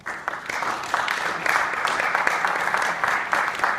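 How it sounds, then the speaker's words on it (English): Audience members at a Federal Triangle Partnership 2013 event applaud a speaker with brisk, steady clapping that holds at an even level for a few seconds. "Let's give her another round of applause."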